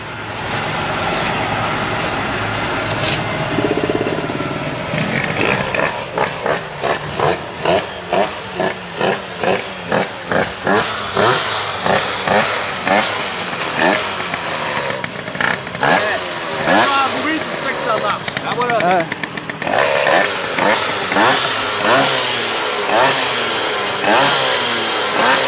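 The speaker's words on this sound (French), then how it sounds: "ça va entraîner le variateur qui va faire démarrer le moteur" A moped engine is started and revved up, sounding loud and close with a harsh buzzing two-stroke tone that pulses in rapid rhythmic bursts, then settles into a sustained high drone; voices are heard speaking during it.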